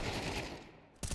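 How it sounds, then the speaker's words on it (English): FAMAS rifle fire in a Counter-Strike esports match, a dense continuous burst that fades toward the end before a sharp new shot cuts in, all fairly faint under a busy game mix. "Lackey's making the Fama sing"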